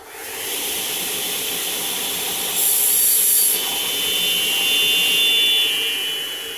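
A small hand saw cuts a shallow test notch in ebony fretboard binding, a steady close-up rasping hiss of fine strokes that swells slightly midway and carries on alone.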